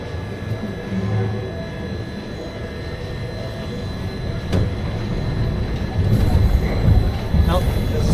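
A Steel Eel steel roller coaster train at SeaWorld San Antonio dispatches from the station, rumbling and rolling along the track with a rising mechanical roar, joined by faint squeals and a sharp click, under ongoing crowd chatter and voices.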